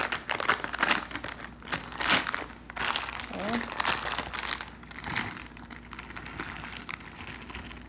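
A plastic bag of milk chocolate chips crinkles and rustles continuously while a person speaks over it.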